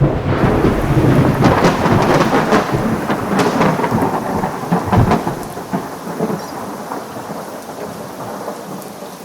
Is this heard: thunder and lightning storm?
yes